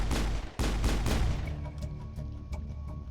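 Gunfire in a Mass Effect firefight: a burst of heavy, loud shots in the first second and a half, then sporadic lighter reports and metallic pings trailing off over a low rumble.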